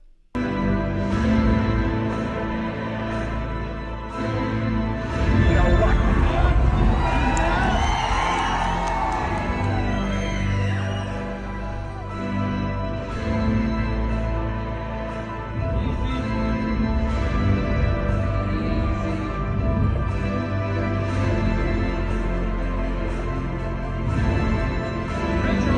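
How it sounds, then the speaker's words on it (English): A cheering film crowd in a packed theatre-like scene, a loud, sustained roar of whoops, yells and shouts swelling midway, with music underneath. "that's why the crowd is cheering"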